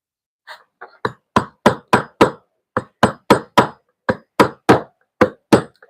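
A hammer strikes a chisel into stone in about seventeen sharp, ringing blows, spaced in quick, fairly regular bursts with short pauses between groups.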